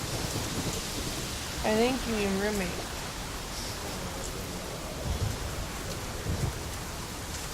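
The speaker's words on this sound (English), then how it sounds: "The storm, damn it." Steady rain hisses through a thunderstorm in Witcher 3 with low rumbling underneath, while someone talks briefly over it.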